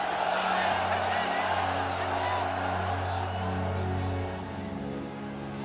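A huge roaring crowd of spectators cheers at a chariot race in the Circus Maximus, a dense, steady wall of noise that eases slightly toward the end.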